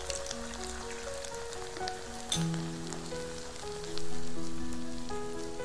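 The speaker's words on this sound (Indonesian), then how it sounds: "Tuang saus ke dalam teflon, tumis bersama bumbu sampai agak kental" A thickened sauce sautéing with spices in a Teflon pan gives a steady bubbling sizzle, overlaid by sustained musical tones, with a brief clink near the middle and a swell of louder frying toward the end.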